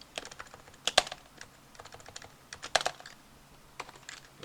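Computer keyboard typing while creating a constructor with getters and setters via an Alt+Insert shortcut: a few quick clustered keystrokes with two sharper clacks, close and fairly quiet, no talking.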